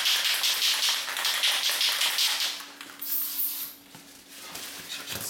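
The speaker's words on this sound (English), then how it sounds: "So you want to try to spray the wax first to the inside of the chain." Tirox Chain Lube wax sprayed from an aerosol can onto a bicycle chain, a sustained hissing burst for about two and a half seconds that fades, then a shorter spray and quiet handling noises.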